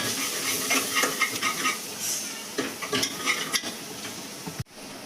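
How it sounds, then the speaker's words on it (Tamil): Sambar powder being stirred into vegetables in a pan, a spoon scraping in steady uneven strokes over a soft sizzle, with a brief sharp knock near the end. "போட்டு நல்லா மிக்ஸ் பண்ணிட்டு"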